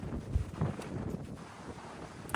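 Gusty wind buffets a microphone outdoors near a shop, coming in uneven rumbling bursts with brief swells, no voices in this stretch.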